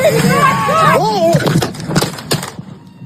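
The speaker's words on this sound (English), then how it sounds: "that is the sound of the officer being hit by the car" Dashcam-style police footage of a car striking an officer during a traffic stop: a voice at first, then a cluster of sharp, loud cracks and thuds, followed by scattered smaller knocks as the sound fades.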